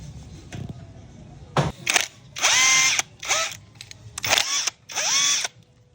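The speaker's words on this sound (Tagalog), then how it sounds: "Dalawang size 8 tanggalin natin para mapaghiwalay natin itong throttle body niya." A power drill spins out two size 8 bolts from the throttle body of a Honda Click scooter. It fires several short, loud whirring bursts, each revving up and cutting off, close by.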